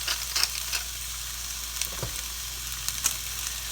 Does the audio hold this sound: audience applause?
no